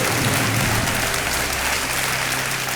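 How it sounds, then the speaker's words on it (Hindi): Dense studio audience applause on the Kaun Banega Crorepati (KBC) Season 10 game show set, steady and loud throughout with no voices on top. "ताली बज जाए जोर से।"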